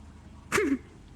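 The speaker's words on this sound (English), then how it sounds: "And now is a horrible time for me to tell you I have to sneeze." One short, close sneeze bursts out sharply in an otherwise quiet room, with a quick voiced drop at its tail.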